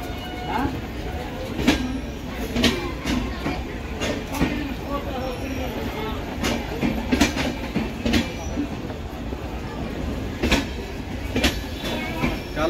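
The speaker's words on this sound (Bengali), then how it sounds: "ছেড়ে দিল 13006 অমৃতসর হাওড়া মেল।" The Amritsar–Howrah Mail, train 13006, rolls through a station with steady rumbling and repeated clickety-clack wheel beats. Faint squeals and station background noise run throughout.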